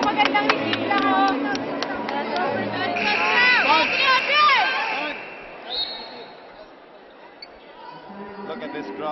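A dense crowd roars and shouts through a 2010 Shakey's V League women's volleyball quarterfinal between Ateneo and UST, with the cheering swelling and easing. Voices talk close by over the crowd.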